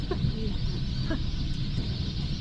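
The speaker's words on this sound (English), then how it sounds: "Oh yeah, something set the birds off, yeah." Startled waterbirds calling at a billabong in Kakadu National Park, several sharp squawks and clucking cries near and mid-distance over a constant outdoor background hum.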